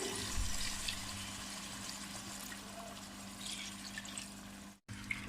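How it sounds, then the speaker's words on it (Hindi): About three glasses of water poured into a pan of fried chicken, a steady low rush and trickle of liquid, close and fairly quiet, with a brief dropout near the end. "अब इसमें हम तकरीबन 3 गिलास पानी के ऐड कर देंगे।"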